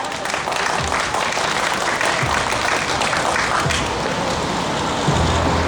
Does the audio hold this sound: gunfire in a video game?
no